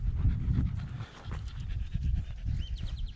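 A dog pants close by in Jaycee Park, a rapid rhythmic huffing over outdoor background noise, with a faint high chirp near the end and no talking.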